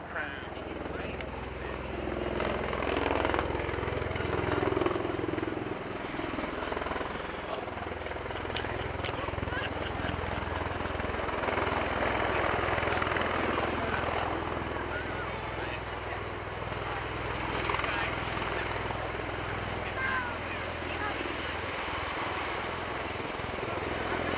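Helicopter rotors at an airshow thrum steadily and loudly through the whole stretch, with a broad engine roar and a crowd-like wash, while a voice talks over the machine.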